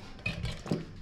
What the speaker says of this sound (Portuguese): Colocando na panela.